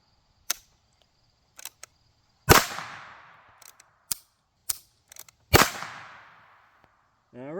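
Two sharp, loud gunshots from a Heritage Rough Rider .22 WMR carbine firing Speer Gold Dot ammunition, each with a ringing decay outdoors, set among quieter mechanical clicks of cocking and handling.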